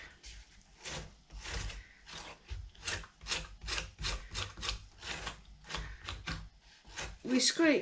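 Knife scraping gel off an aloe vera leaf, using the blunt side of a stiff blade, a steady series of close rasping strokes in a regular back-and-forth rhythm, with someone speaking over them.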